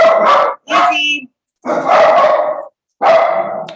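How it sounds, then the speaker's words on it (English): A dog barks indoors in loud, close bursts, about four separate barks or short bark clusters with brief silences between them. "Waiting for Diesel to stop barking"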